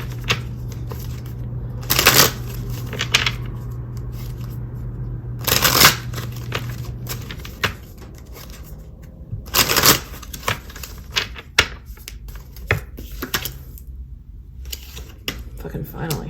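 A deck of cards is shuffled again and again, with several crisp riffling bursts separated by softer handling noise and a steady background hum.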